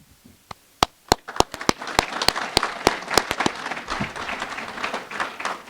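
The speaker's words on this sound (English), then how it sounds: "just wave and some well-deserved applause" Applause at a Rockland athletic hall of fame ceremony starts with a few sharp, separate claps and swells into steady clapping from a seated audience, fairly close and with no talk over it.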